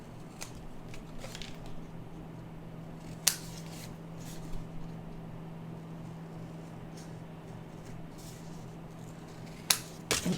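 Scissors snipping paper while trimming a pocket for a handmade safari-themed mini album, a few sharp isolated cuts spread apart over a quiet, steady background hum.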